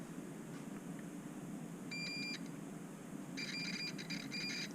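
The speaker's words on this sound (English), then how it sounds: "We are getting a beep, which is good." Testing wiring connections on a 2.5-inch micro FPV drone build brings short electronic beeps, a brief tone followed by a longer run of rapid pulsed beeps, fairly faint over a steady background hiss.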